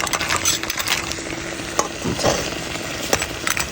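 Crab curry being sautéed and stirred in a pan, with a steady sizzle broken by scraping and clattering stir strokes and a few sharp knocks near the end, loud and close with no talk.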